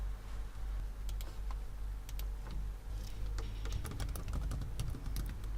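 Typing code on a computer keyboard, a fast, uneven run of close key clicks and taps over a low steady hum, with no voices.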